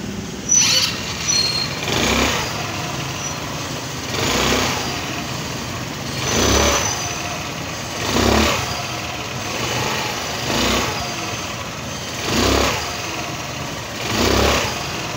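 A motorcycle on a test ride after a clutch lining repair revs repeatedly, each burst of acceleration swelling and fading at regular intervals over a steady engine drone, close and without talking.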